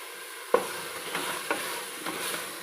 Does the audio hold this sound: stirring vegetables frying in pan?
yes